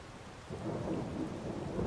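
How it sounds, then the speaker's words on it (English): A thunderstorm in the farming game Farming Simulator 22: steady rain hiss, then a deep thunder rumble swells in about halfway and rolls on loudly to the end. "And you can also hear the thunder."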